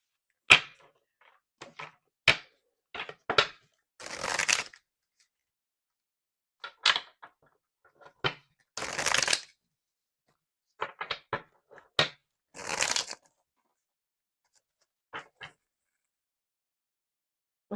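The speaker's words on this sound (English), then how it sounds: "while I was shuffling this deck" Tarot cards are shuffled in short bursts of riffling and sliding, separated by pauses and light taps, close and quiet.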